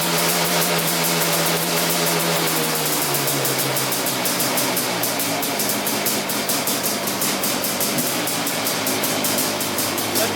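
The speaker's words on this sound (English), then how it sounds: "Let it idle." A Quadzilla 500cc ATV engine idling up close, a loud steady rattling putter with a fast even pulse that settles slightly lower in pitch after a few seconds, running alone without speech.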